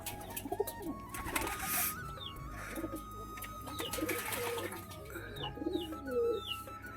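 Pigeons being given water to bathe in on a hot, sunny day coo repeatedly at close range, their soft throaty calls overlapping with scattered chirps.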